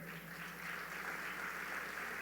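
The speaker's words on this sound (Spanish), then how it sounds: "Denle un fuerte aplauso al Señor" A church audience gives a round of applause to the Lord during a sermon, producing a soft, steady wash of clapping from many hands, faint and distant, sustained without pause.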